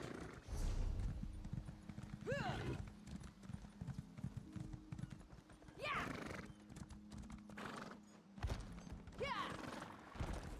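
A horse galloping in the video game Elder Scrolls Online, with steady close hoofbeats drumming throughout and a few brief whinnies. A quiet voice comes through now and then.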